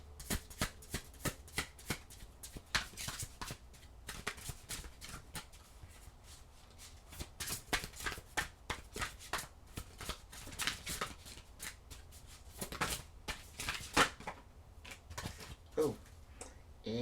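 Oracle cards shuffled by hand in a dense, steady run of soft riffling and flicking bursts, close and fairly quiet, with no talk over it.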